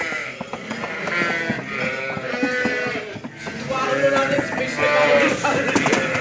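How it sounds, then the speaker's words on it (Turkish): Many sheep bleat inside a barn housing about 500 head, overlapping calls rising and falling close by, with a person's voice mixed in. "şu anda bu işletmede 500 tane koyun var"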